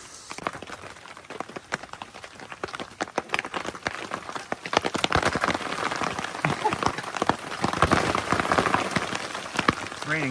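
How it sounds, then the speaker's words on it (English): Heavy rain pours down around an outdoor car repair spot, a dense, loud, continuous patter of drops striking surfaces that grows heavier midway through. "It's raining cats and dogs over here."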